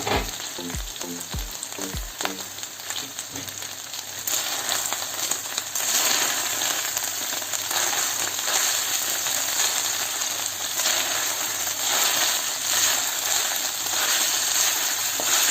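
Saç kavurma meat sizzles and fries steadily in a covered pan, a dense, even hiss that follows a few soft knocks at the start and grows brighter partway through.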